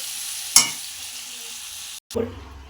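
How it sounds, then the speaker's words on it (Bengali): Tomato sautéing in a pan for curry, a soft steady sizzle broken by one sharp stirring clatter, then a brief gap before the frying resumes. "এবার টমেটোও দিয়েছি, একটা বড় দেখে টমেটো দিয়েছি, কষাচ্ছি ভালো করে"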